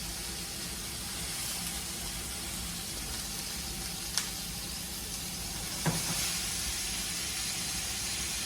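Monkfish pan-fries in a hot pan, giving a steady broadband sizzle and hiss with a couple of brief clicks and pops, with no talk.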